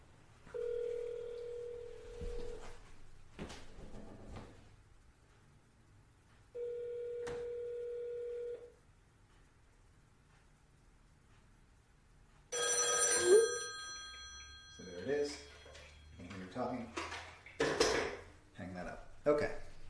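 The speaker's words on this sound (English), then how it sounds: "now I'm going to call the same number" A phone rings on a virtual business phone system, two separate steady ringback tones sounding a few seconds apart. Then the call is picked up and brief tones and clicks follow as a voice speaks.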